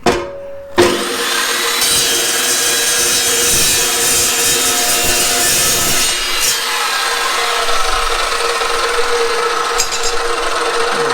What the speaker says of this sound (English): These cold cut saws are awesome.